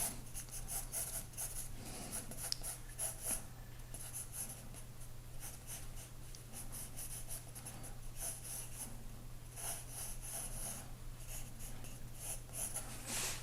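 Pencil drawing on paper during a still-life sketch of a spiralling paper ribbon, with steady, continuous scratchy strokes and brief pauses, close and quiet over a constant low hum.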